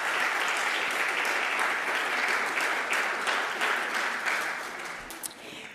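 Audience applause at a student research symposium, a dense steady clapping from many hands that rings out loud for several seconds and then tapers off toward the end.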